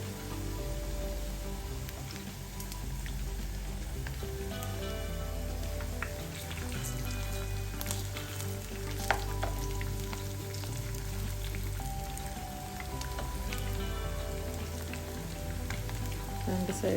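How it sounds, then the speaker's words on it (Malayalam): Cabbage and onion pakora fritters frying in hot oil, a steady dense crackle and sizzle with a low hum beneath it, continuous and fairly close, with no talking. "നല്ല ക്രിസ്പി ആകുന്ന രീതിയിൽ ഫ്രൈ ചെയ്തെടുക്കണം"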